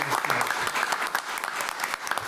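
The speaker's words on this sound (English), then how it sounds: "How about a round of applause?" A round of applause at a school board meeting: dense, steady clapping from a room of people lasts throughout, fairly even in strength with no speech over it.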